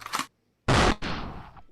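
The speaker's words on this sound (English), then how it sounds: "Then we're gonna give you the gunshot." A gunshot sound effect gives a short burst, a pause of silence, then a loud sharp blast followed by a decaying echoing tail.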